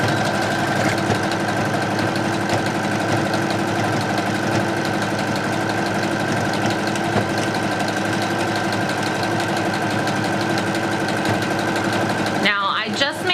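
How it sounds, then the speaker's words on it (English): A home sewing machine running a continuous zigzag stitch along a fabric headband, a steady mechanical whirr with rapid needle chatter and constant hum throughout, ending abruptly as it stops. "we're going to do a zigzag stitch all the way down"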